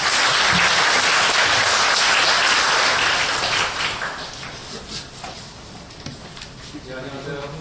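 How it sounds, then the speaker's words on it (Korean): Audience applause greeting a guest lecturer, a young yachtsman who sailed around the world, at a National Maritime University special lecture; dense, loud clapping that thins and fades toward the end. "큰 박수로 환영해 주시기 바랍니다."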